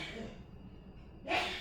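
A single sharp sneeze bursts out near the end after a stretch of quiet room noise.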